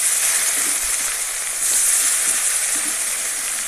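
Tomatoes hit hot mustard oil seasoned with panch phoron in a kadai and sizzle with a loud, steady, close hiss and spatter that holds throughout with no talking.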